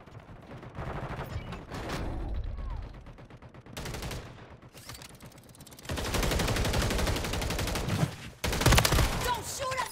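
Video game gunfire in bursts, sporadic shots early giving way to sustained, louder rapid fire in the second half, with brief pauses between volleys.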